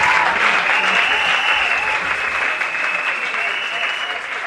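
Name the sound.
audience cheering and applauding at a Christian concert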